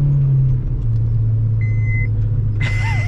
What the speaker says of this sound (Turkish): Evet teker boşa dönüyor bak